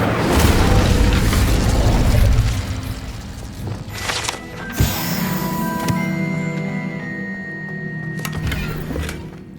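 Fire spell cast in the game Hogwarts Legacy: a loud whooshing burst of flame with a deep boom, followed by lingering crackle and shimmering magical tones that fade out.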